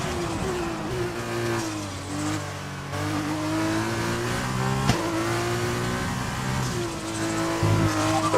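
A Formula 1 race car in the F1 2020 video game screams at high revs through a lap, its pitch climbing through upshifts and dropping on downshifts, loud and continuous with no talk.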